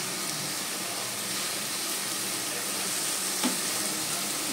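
Stirring and frying in a pan with turmeric and salt, a dense continuous sizzle and hiss close up, with one faint scrape partway through and no speech.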